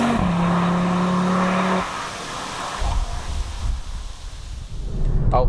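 A 2022 Audi RS3 accelerating out of a corner on a track, a loud steady engine drone that drops off into rushing road and wind noise, then rises again.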